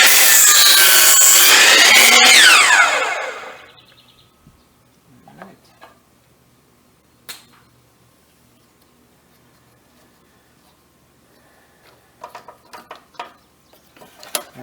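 Handsaw or power saw cutting through a 2x4 wood board, a loud dense burst of cutting for about three seconds that stops abruptly, followed by quiet scattered handling clicks and taps.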